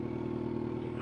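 A Yamaha FZ8 motorcycle engine idles just after starting, a brief, steady, even low throb at moderate distance with no talking.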